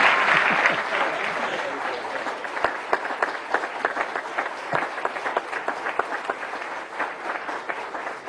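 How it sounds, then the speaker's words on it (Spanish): Sustained audience applause fills a national journalism award ceremony, dense clapping holding steady and fairly loud throughout with no speech over it. "Con eso quiero cerrar y agradecerle los aplausos."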